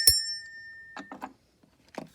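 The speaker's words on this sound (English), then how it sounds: "ring the bell" A small bell gives one bright, ringing strike that fades slowly in a quiet room during a tarot reading, followed by soft rustles and light handling noises.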